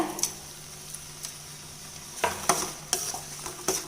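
A thick tomato thokku is stirred in a pan after rock salt is added. Soft bubbling sizzle sits under a handful of sharp, close spoon scrapes and taps that cluster toward the end. No voices.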